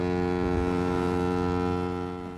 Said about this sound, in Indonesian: tiba-tiba terdengar suara klakson dari satu kapal